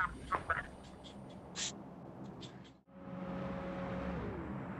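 Cartoonish duck quacks from PUBG Mobile, a few short bursts over the steady hum of game sounds, followed by a vehicle engine droning and rising in pitch.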